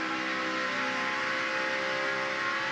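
NASCAR Camping World Truck Series Toyota truck engine at Atlanta lifting off the throttle, a steady sustained drone with whirring harmonics and no pronounced rev changes, loud and close throughout.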